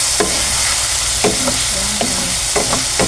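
Tofu sisig sizzling steadily in a hot pan as calamansi juice is added, with a loud continuous frying hiss and a few soft scraping stirs of a utensil.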